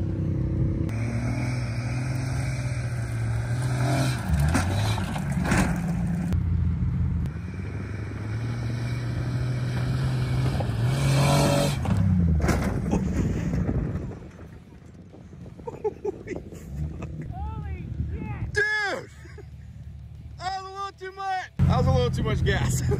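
A 90s Jeep Cherokee engine roars loudly as it accelerates toward a jump, a steady revving drone that drops away into rattles and thumps, with shouting and cheering voices near the end.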